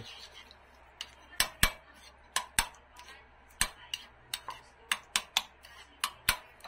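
Spoon clinking and scraping in a bowl while stirring a calamansi juice dipping sauce, sharp irregular taps close up, with quiet background.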